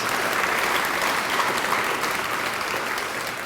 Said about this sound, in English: A round of applause for our Director of First Impressions.